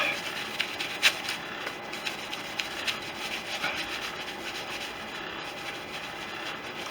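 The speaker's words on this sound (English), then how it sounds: "I just rub that on the edge." Cloth rubbing aluminium polish along the edge of a Fisher Youngster's windscreen frame, a steady close scratchy friction with a few sharper strokes throughout.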